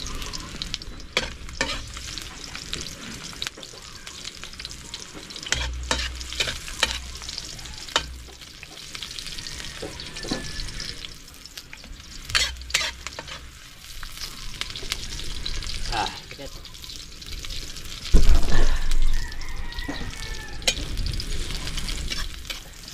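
Onion sautés in a hot pan, with a continuous close sizzle of frying broken by repeated scraping stirs of a utensil and a louder clatter near the end, no talk.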